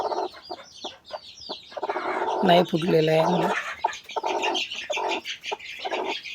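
A brooding hen sits on her eggs near day eighteen, making soft murmuring clucks and one drawn-out throaty call, close by, under a person talking.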